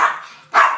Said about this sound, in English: My dog was getting a ball, and the other dog barked at him.